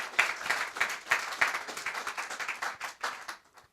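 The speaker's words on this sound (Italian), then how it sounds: "e fatele un applauso" Audience applause for a woman named Albina, fairly quiet clapping from a modest group with distinct pulsing claps over nearly four seconds, tapering off at the end.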